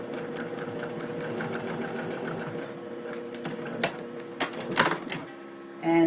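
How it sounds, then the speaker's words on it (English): A sewing machine stitching a shirt pocket hem, a quick steady run of close mechanical clicks that slows into a few separate thumps before it stops, heard alone and close. "stitching a needle width away"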